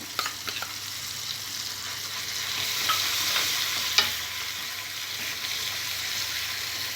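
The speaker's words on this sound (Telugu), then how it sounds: "తాలింపు ఫ్రై అయిన తర్వాత మనం ముందుగా మిక్సీ పట్టుకున్న పుదీనా పచ్చడి వేసుకోవాలి." Mint chutney from a mixer frying in a tempering in a pan as it is stirred, with a steady close sizzle, scattered spoon clicks against the pan and a louder scrape near the middle.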